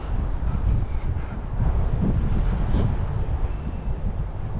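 Loud, constant wind buffeting the microphone while someone walks outdoors in Dallas, a dense low rumble with no talk.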